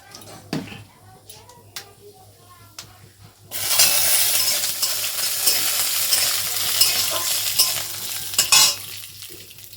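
Chilli and peanuts sizzle loudly in hot tempering oil, a sudden burst of frying that starts a few seconds in and continues steadily, with a voice and kitchen clatter early on.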